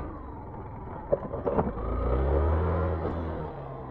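Engine of a motorcycle converted into an enduro bike, revving on a rough road in San Pablo, Laguna; a few sharp bursts give way to a sustained low rumble, close and steady, with no voices.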